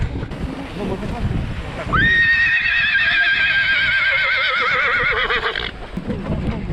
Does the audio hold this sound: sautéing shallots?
no